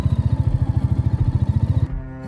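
A motorcycle ridden on a mountain road toward Spiti, its engine thumping in a fast even pulse close up, then the throb cuts away into a softer steady drone near the end.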